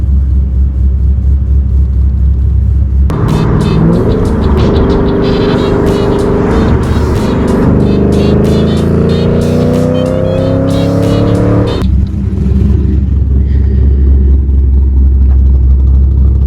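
A Ford Mustang with new camshafts and long tube headers, its engine idling with a choppy lope, then revving hard through several rising and falling pulls before settling back to a rough rumbling idle, close and loud.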